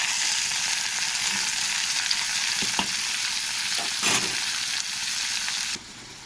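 Chicken pieces frying in oil tempered with dried red chillies and black cumin seeds: a dense, steady hiss of sizzling with a few soft clicks of stirring, cutting down to a quieter sizzle near the end.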